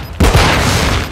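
Grenade explosion in Warzone, a sudden loud close blast after a brief quieter moment, followed by a sustained roaring, crackling wash that stays dense to the end.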